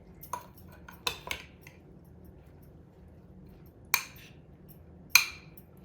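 Fresh salsa fresca (pico de gallo) being mixed in a bowl with a utensil: a few sharp clinks and scrapes of cutlery against the bowl, spaced irregularly over a quiet background.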